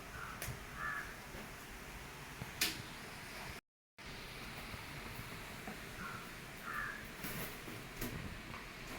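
A crow caws outside a kitchen window, giving a few separate, distinct calls over faint, quiet background noise, with no talk.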